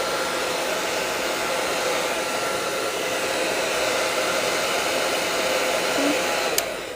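A hair dryer blows steadily at close range to dry watercolor paper, giving a loud continuous whooshing roar that lasts the whole stretch and ends with a faint click.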